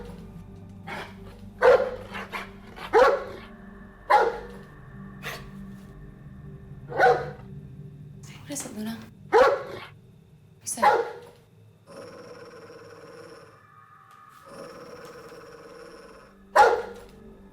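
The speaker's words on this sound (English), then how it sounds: "All of a sudden, she started barking." A dog barks repeatedly in sharp, loud bursts, spaced irregularly, with a few softer yips and some quieter background sound between barks.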